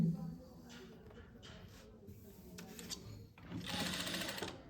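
A sewing machine stitches fabric onto a belt pocket, its motor buzzing in short bursts that stop and start, ending in a longer, louder run; a voice speaks softly in between.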